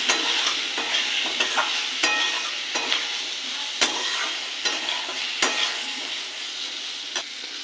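Salt, turmeric, roasted cumin and coriander powders sauté in hot oil in a pan for a khoira fish curry. A continuous sizzle runs throughout, broken by repeated close scrapes and clacks of a spatula stirring.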